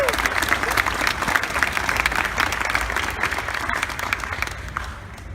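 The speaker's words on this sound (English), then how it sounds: "Let's give a round of applause." Sustained applause from a convention panel audience fills the room, dense and steady for several seconds before tapering slightly at the end, with some faint crowd voices mixed in.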